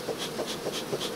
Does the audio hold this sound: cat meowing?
no